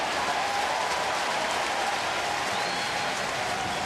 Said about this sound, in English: So this sellout crowd for the first time the entire day